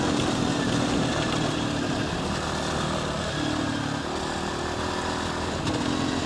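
A large, powerful motorcycle engine runs steadily up close, a loud continuous rumble with slight shifts in pitch as the revs change, alone with no talk.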